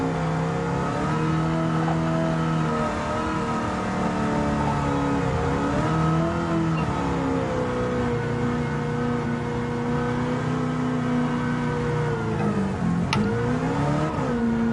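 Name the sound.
rally car engine at full throttle in video game Gran Turismo 7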